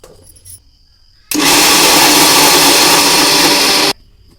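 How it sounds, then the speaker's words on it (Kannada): A mixer grinder whirs loudly and steadily for a few seconds, starting abruptly and cutting off just as suddenly, with quiet room sound before and after. "ಮಿಕ್ಸಿ ಮಾಡೋಣ"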